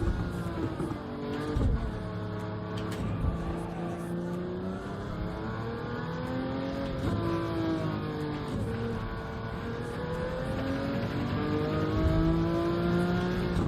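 A race car engine runs a lap in the video game Gran Turismo 7, a steady, loud droning whine that rises and falls through gear shifts and corners without a break.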